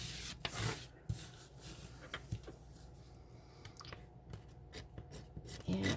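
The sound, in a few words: scraping leftover resin off a surface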